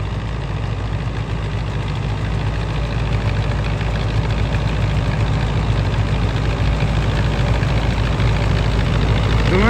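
A tractor engine runs steadily in first low gear while driving through heavy wheat straw and stubble, a loud, continuous low-pitched drone with a faint knocking rumble and vibration, unchanging throughout and with no voices.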